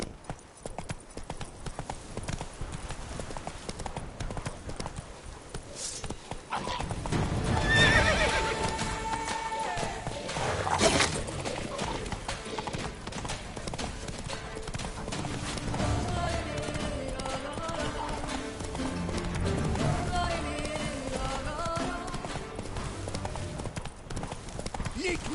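Roach, the horse in The Witcher 3, gallops with continuous rhythmic hoofbeats and whinnies, joined by game music and a voice talking partway through.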